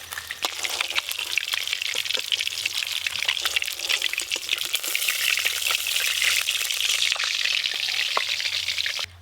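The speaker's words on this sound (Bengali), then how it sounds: "সব মাছ ভাজা হয়ে গেল," Silver carp pieces fry in oil with a dense, continuous crackling sizzle and scattered pops. It sounds close and steady throughout, with no talk.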